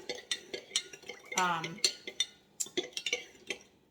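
Brown sugar sauce stirred with a utensil in a bowl, giving a run of irregular clinks and scrapes, with brief speech-like vocal sounds between them.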